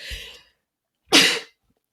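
A person sneezes once, loud and close, after a short breathy intake, then the room falls silent.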